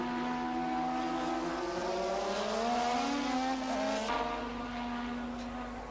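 Late-1980s Formula One cars, a McLaren Honda and a Lotus Honda, roar past at Imola's Tosa corner, their turbo engines wailing loudly and steadily with shifting pitch as one slipstreams alongside the other.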